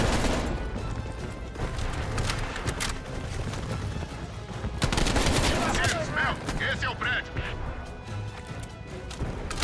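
Call of Duty: Cold War campaign gunfire on PS5 crackles in rapid bursts and scattered shots, with crashes and impacts mixed in, dense and continuous at moderate loudness.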